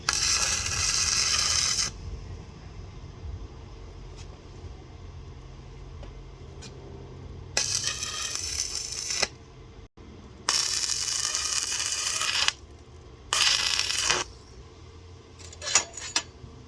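A stick welder crackles and hisses on a fridge slide-out build, in several bursts of a few seconds each separated by quieter pauses with faint clicks and shop noise.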